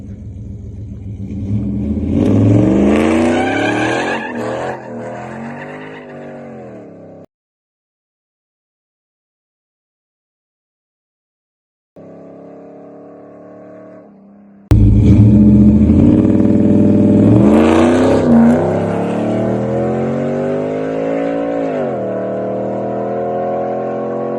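A street car on drag radials launches hard with a loud engine roar as the tires briefly spin and then hook up, rising in pitch through the gears; a silent gap follows, then another strong, close launch and pull.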